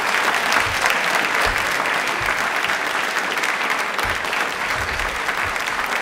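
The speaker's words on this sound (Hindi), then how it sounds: "ताली अपने एक बार जोरदार बजा दीजिए।" An audience at a quiz event marking Birsa Munda's birth anniversary and Janjatiya Gaurav Divas claps loudly and continuously, a dense sustained burst of many hands with no voices over it.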